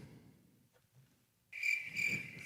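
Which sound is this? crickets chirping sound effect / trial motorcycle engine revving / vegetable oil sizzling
crickets chirping sound effect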